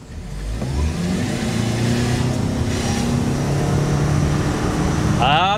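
A hybrid SUV in sport mode accelerates, its engine rising in a steady, loud, near drone that holds for several seconds, with a brief voice and chime at the end.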